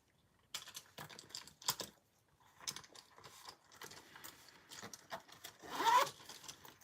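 Quiet typing on a computer keyboard, irregular bursts of soft clicking keystrokes separated by short pauses, close but faint, with no talk.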